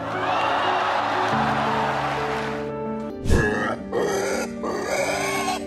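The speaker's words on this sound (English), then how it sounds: "This pig nearly drowned during Hurricane Ian, but the rescue team got there just in time." A pig rescued from floodwaters during Hurricane Ian grunts and snorts close by in a steady run of low calls, with a sharper squeal or splash midway and background noise throughout.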